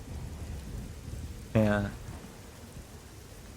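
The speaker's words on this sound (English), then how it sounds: "this is raining here always on this side" Steady rain falls in the video game Lords of the Fallen (2023) at Bell's Rise, a constant soft hiss throughout, with a single short spoken word from a man partway through.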